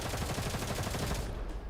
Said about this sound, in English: The faint sound of gunfire comes through the hole.